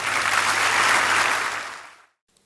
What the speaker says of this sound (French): je voudrais donc inviter toute l'assistance à adresser aux récipiendaires les applaudissements mérités